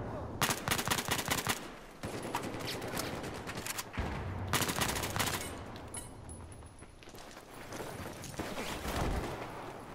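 Gunfire in the multiplayer shooter game Battlefield 4, dense bursts of shots and rapid automatic fire coming in clustered volleys with short gaps, fairly loud and with no talk over it.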